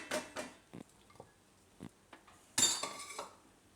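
Soya bhurji pulao gently mixed in a pan, with a few soft scattered clinks and scrapes of a spoon against metal, close and quiet with gaps of near silence between.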